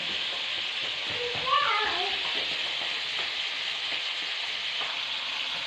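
Tulingan fish frying lightly in a pan, a steady soft sizzle running throughout with a brief louder burst early on, while a voice talks over it.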